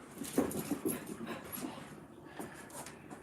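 A dog whimpers and whines in a few soft, high cries near the start during an indoor movement-training session, fairly faint with no talk over it.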